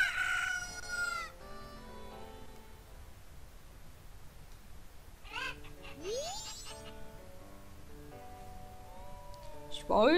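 Several chickens cluck and squawk in short bursts at a ranch in the video game The Legend of Zelda: Majora's Mask, with a rooster-like crow, over a quiet background and some voices.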